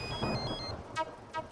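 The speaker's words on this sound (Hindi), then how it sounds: "फोन बज रहा है आपका" A phone rings in a home with bright electronic ringtone tones, first a sustained melodic pattern and then two short repeated bursts, with no voice heard.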